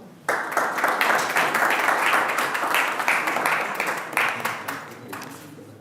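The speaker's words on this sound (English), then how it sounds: "Please, can we share a hand of applause for them, please?" Sustained audience applause at an awards ceremony for certificate recipients, dense steady clapping from many hands that starts abruptly, holds loud and close for several seconds, then thins slightly toward the end.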